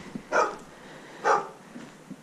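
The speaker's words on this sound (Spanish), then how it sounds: "Mira, un perro ahí ladrando." A dog barks twice at a distance in a snowy northern Palencia village, two short sharp barks about a second apart, with faint outdoor quiet between them.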